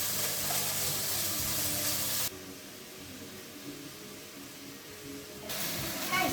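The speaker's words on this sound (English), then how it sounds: "we're just turning those pieces over and just browning them slightly" Beef pieces sizzle steadily as they brown in a hot pan, a dense hissing fry that drops quieter midway and then swells again, with no one talking.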